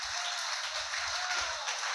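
A church congregation claps hands together in a dense, sustained round of applause with steady loudness throughout.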